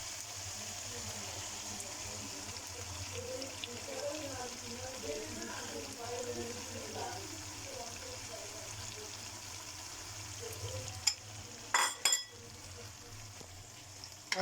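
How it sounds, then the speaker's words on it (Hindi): Beaten eggs frying in a pan for an egg khagina, a steady soft sizzle running throughout with a few sharp clatters near the end. "अंडों को इसमें शामिल करके अच्छी तरह से भून लेते हैं।"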